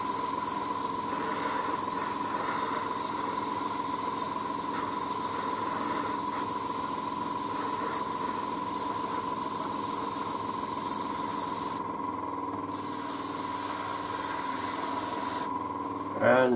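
Airbrush spraying paint onto a 1:35 scale Trumpeter E-50 Standardpanzer model tank, a steady close hiss running continuously with two brief breaks near the end.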